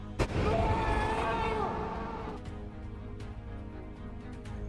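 A single sharp gunshot in a film scene, a sudden loud crack followed by a booming, reverberant tail that fades over a couple of seconds into low background sound.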